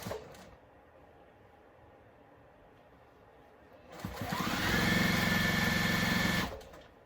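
A sewing machine runs a steady top stitch for about two and a half seconds with a high whine, starting after a quiet stretch and stopping abruptly, with no talk over it.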